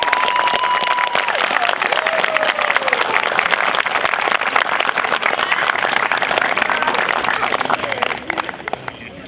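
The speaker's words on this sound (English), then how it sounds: "Turn and give your loved ones a round of applause for the support they have given you" Commencement graduates give their loved ones a long round of applause, dense sustained clapping from a large indoor crowd that fades toward the end.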